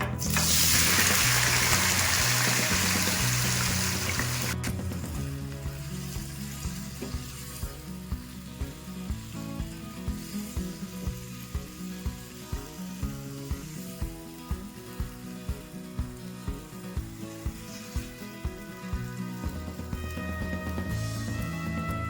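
Chopped banana stem tipped into hot mustard oil tempered with dried red chillies and cumin; a loud burst of sizzling erupts, then settles into steady frying crackle with rhythmic stirring scrapes.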